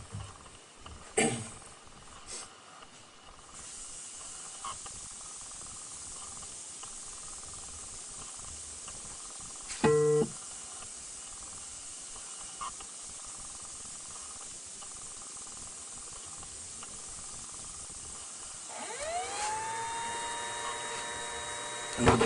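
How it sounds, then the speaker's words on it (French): Water from a kitchen tap running as a steady hiss at moderate loudness, with a few short knocks and clunks partway through and a rising whine near the end. "L'eau de la cuisine arrive."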